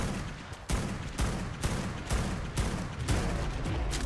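Rapid gunfire from the video game ARK, about eight loud, sharp shots in quick succession with short gaps between them, heavy and close.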